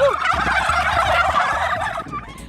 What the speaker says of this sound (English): We can only assume this is how turkeys express agreement.